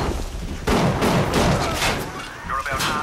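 Regular buckshot rounds blast from a shotgun in BioShock, a few loud sharp shots in quick succession with a voice talking over them.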